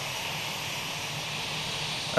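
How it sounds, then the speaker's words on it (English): A jet engine on an Airbus A319 in Microsoft Flight Simulator spools up, heard as a steady, even roar and hiss at moderate level with no talk. "Sounds like engine number 2 has started up."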